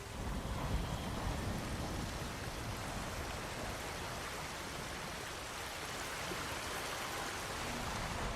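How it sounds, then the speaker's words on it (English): A waterfall in Ghost of Tsushima gives a dense, steady broadband rush of falling water that holds level throughout without any voices. "Under the waterfall."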